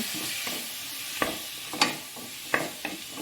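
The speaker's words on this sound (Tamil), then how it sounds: "வதக்கிட்டு தக்காளி நான் ஒரு 4 தக்காளி எடுத்திருக்கேன். அதையும் நல்லா வதக்கிக்கோங்க." Tomatoes being sautéed in a pan for Tamil-style tomato chutney, a soft sizzle under spatula stirring and a few distinct scrapes and taps against the pan, close and without talking.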